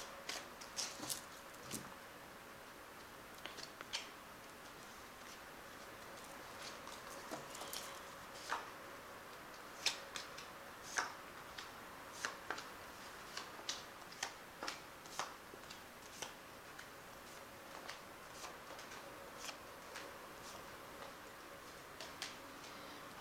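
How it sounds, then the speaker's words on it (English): A tarot card deck (Bright Idea deck) being given a quick shuffle at a reading: crisp, irregular taps and card clicks, close but faint, with no talking. "I'll just give it a quick shuffle,"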